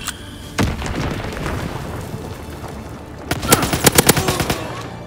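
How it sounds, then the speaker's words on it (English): An incoming artillery bomb strike in a combat video game: a heavy boom, then dense rumbling, then a tight cluster of sharp, loud explosive cracks in quick succession near the end. "Oh, incoming enemy artillery! Get to cover!"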